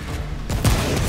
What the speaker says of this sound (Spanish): Hemos disparado los dos.